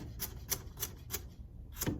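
Knife dicing a carrot on a cutting board, a handful of sharp evenly spaced chops close to the mic, a short pause, then one more chop.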